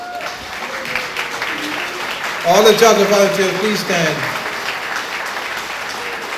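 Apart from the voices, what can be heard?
audience applause for volunteers at a gala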